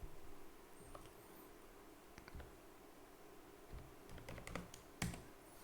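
Coordinates being typed on a computer keyboard, with a run of close, fairly quiet keystrokes that comes in scattered bursts and gets busier and louder toward the end, with no talking.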